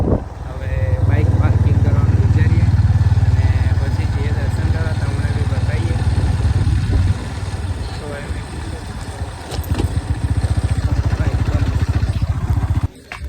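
A motorcycle engine runs near a temple gate before the bike is parked, a loud low rumble that idles and then putters unevenly, with someone talking over it.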